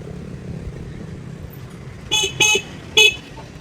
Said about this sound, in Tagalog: marunong siyang mag-busina